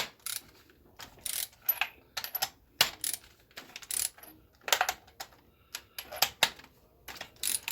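A ratchet spark plug tool works on a 2011 Chevy Cruze engine, giving quick clicking ratchet strokes in irregular bursts with brief metallic ticks, close and fairly quiet, no voices.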